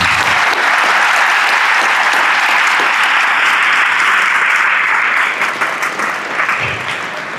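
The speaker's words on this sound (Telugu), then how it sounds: "అందరికి చప్పట్లు కొట్టాలి మరి" An audience claps for a student named Mounika, a broad, steady wash of many hands that stays loud and continuous throughout, easing slightly toward the end.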